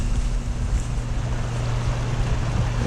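Swollen river after heavy overnight rain, rushing in a continuous broadband roar with deep low rumble, steady and close, with no voices.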